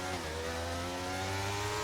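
A Formula 1 race car in the video game F1 23 roars hard on a restart in Miami, its loud sustained engine note climbing steadily with dense harmonics, close and continuous with no pauses.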